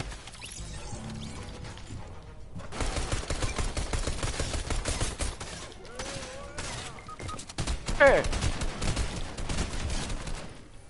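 Gunfire in the video game Fortnite, including a gray pistol, comes in rapid bursts and scattered shots over game noise, with players talking in the background.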